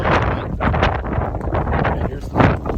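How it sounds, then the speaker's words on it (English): Gusty wind buffets the microphone in loud, uneven rushes, with a voice faintly audible underneath. "It's windy here today"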